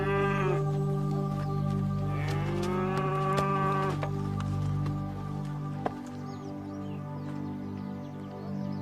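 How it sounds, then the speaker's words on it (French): A cow moos loudly and close by in a long drawn-out call with a steady harmonic tone, then falls quiet while a low steady background hum continues. "Je t'ai ramené ta vache."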